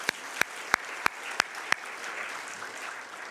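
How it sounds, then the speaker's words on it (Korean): A church congregation at a Sunday worship service claps in time, six sharp, evenly spaced claps followed by a fading room ambience. "하나님께 다시 한번 영광의 박수를 올려드리겠습니다."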